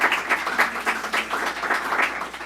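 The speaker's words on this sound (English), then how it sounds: "So let's give a round of applause to everyone who's part of this great organization." Audience applause at a public event with New York's governor, heard as steady, fairly close clapping with distinct individual claps pulsing throughout.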